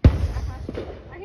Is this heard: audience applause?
no